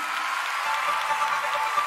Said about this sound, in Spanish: Aplauda a su Señor